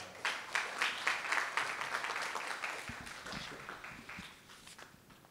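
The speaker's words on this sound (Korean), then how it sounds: "박수로 맞아주시기 바랍니다." Audience applause at a Catholic Northeast Asia peace research institute lecture welcoming a speaker, a burst of clapping that rises quickly, holds for a few seconds and gradually fades, with scattered claps trailing off.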